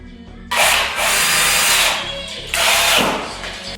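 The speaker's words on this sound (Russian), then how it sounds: "Сначала зинкером для шляпки самореза, затем с саморезами." A power drill countersinks and drives screws into 10–12 mm plywood laid in two layers as a floor, with two loud, close whining bursts that ramp up and then cut off.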